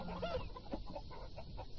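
Chickens in the farm game Farm Manager 2018 cluck softly in a series of short, quiet calls over a constant background hum.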